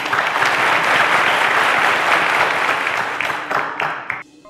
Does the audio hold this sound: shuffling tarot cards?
no